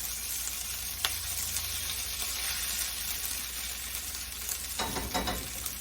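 A small piece of stew meat fries in a pan, giving a steady close sizzle and crackle with a few sharper pops and spits.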